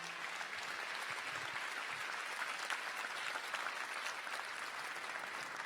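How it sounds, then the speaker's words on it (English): A school basketball crowd in Oregon applauds steadily at an even level for several seconds, dense clapping with no voices standing out. "Could you please give Oregon a round of applause on that?"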